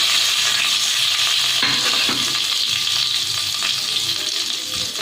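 Whole spices, cardamom, cinnamon, cloves, bay leaves and dried red chillies, crackle in hot oil, a loud steady sizzle with scraping stirring strokes and a few small clinks, no talking.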